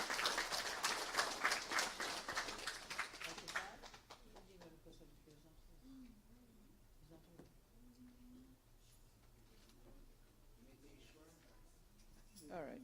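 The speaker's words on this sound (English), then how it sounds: "Give her a big round of applause" Applause from an audience at a weekly Sunday satsang at a gurukula, honoring a staff member; dense clapping fills the first four seconds, then fades under a speaking voice with soft background noise.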